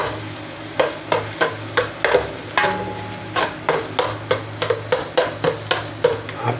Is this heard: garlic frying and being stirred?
yes